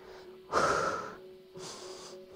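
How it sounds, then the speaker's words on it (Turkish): During a home exercise routine, a person takes two deep breaths, each a loud, rushing inhale through the nose followed by a long, steady exhale through the mouth, heard up close with no talking. "Evet, derin nefes al, ver."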